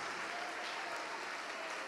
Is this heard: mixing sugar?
no